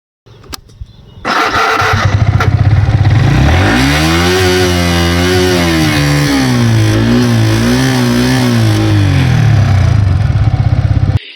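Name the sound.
Yamaha R15 V3 motorcycle engine revving to VVA range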